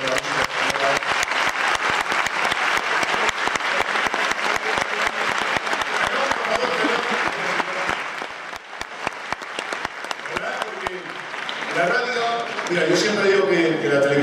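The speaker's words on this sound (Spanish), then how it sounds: "Quiero un fuerte aplauso para este señor que hace mucho" Loud, sustained audience applause fills a concert hall in Alcorcón, dense clapping running steadily throughout, with voices rising over it near the end.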